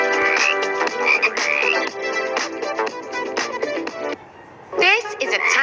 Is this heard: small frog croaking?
yes